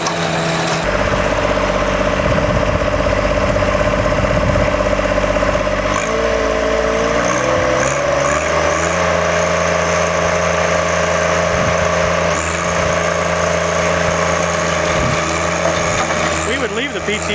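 A John Deere 1025R compact tractor runs close by while tilling a garden, its engine droning steadily with tonal shifts in pitch as the load changes; no clear talk over it.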